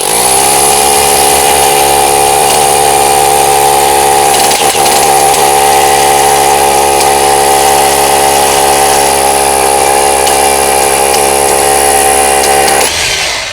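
A Dongcheng DCZC02-28 rotary hammer fitted with a 19 mm bit drills into K300 concrete, giving a loud, steady, continuous hammering drone that runs unbroken for about thirteen seconds before cutting off abruptly.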